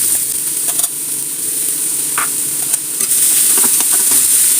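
Finely chopped onions frying in hot oil give a loud, constant sizzle, broken by brief stirring scrapes and a couple of light utensil clicks.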